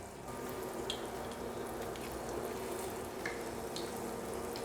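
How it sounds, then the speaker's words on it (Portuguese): Polvilho (cassava starch) dough balls dropped into hot oil, giving a steady, soft frying hiss with a few faint crackles and pops, no voices. "Então é só ir pingando aqui o bolinho dentro do óleo, não precisa se preocupar que ele não estoura."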